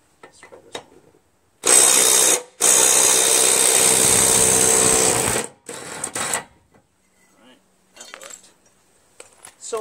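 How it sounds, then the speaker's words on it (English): A half-inch electric impact wrench works on a bent mower deck spindle of a Troy-Bilt Pony/Super Bronco lawn tractor, with two loud, sustained bursts of buzzing hammering separated by a brief pause, then shorter faint bursts. "Going to have to get the half inch electric impact out."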